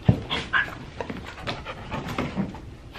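A dog panting close by in quick, uneven breaths with a faint whimper, no talking over it.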